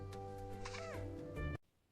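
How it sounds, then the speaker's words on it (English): A cat gives one long, drawn-out, rising and falling meow, loud and close, which ends abruptly. "Hurry, the cat is following me now."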